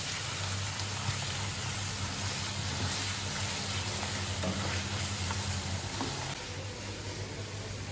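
Red chili, salt and turmeric masala sizzles steadily in a pan for bhindi gosht, a dense continuous frying hiss with occasional stirring scrapes, close and even throughout with no talking.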